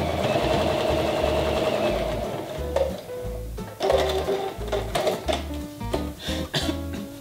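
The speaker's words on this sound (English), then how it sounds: "line up your needle with your previous line of stitches and sew the opening shut" A sewing machine stitching a fabric opening shut, running in short rhythmic bursts of rapid needle thumping separated by brief pauses and small clicks, close up with no talking.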